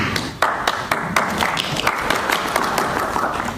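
Audience applause at a college mayoral forum, a crowd clapping steadily with a few sharp individual claps standing out, continuous and moderately loud.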